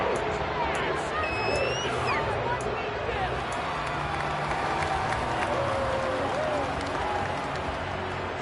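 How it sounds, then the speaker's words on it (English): Crowd applause and cheering in the Madden 23 football video game: a broad, continuous stadium roar with clapping and babble running steadily through the stretch, a few faint whistles rising above it. "How about some applause for the defense there?"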